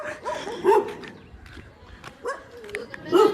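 Dogs barking near a village road, several short sharp barks in bursts across a few seconds, fairly close, with faint background voices.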